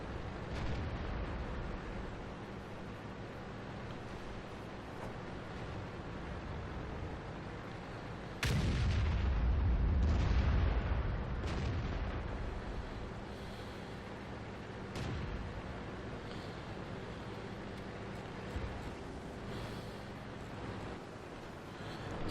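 In World of Tanks, on a Siegfried Line battlefield, a deep tank cannon shot booms out, followed by rumbling explosions over a steady low battle din, fairly distant and subdued, without voices.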